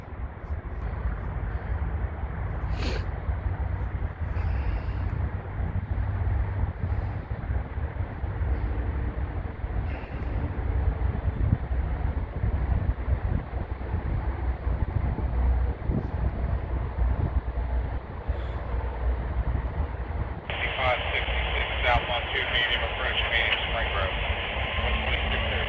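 A southbound Norfolk Southern freight train approaches with a steady, continuous rumble and hiss of wheels on rail, growing slightly fuller as it nears, with a brighter high-pitched squeal or horn-like tone joining near the end.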